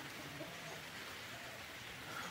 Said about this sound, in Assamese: অলপ অলপ বৰষুণ দি আছে